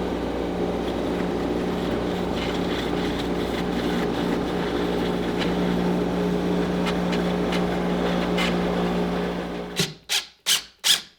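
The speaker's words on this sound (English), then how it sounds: "as I lathe this, I'm not going to be actually cutting it the way you would normally do this" A lathe skims a disc sander disc with a steady, even machine hum and drone. Near the end the run breaks into a few spaced, pulsing surges.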